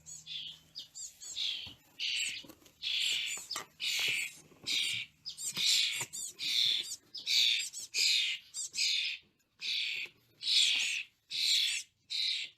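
A couple of chickadees calling, a rapid series of bright chirps and short notes repeating in bursts over about twelve seconds, close and fairly loud with no talking.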